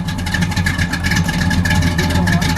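A 1969 Pontiac GTO Judge with the Ram Air III engine revs close by, a loud, deep, throaty roar that rises and holds steady throughout.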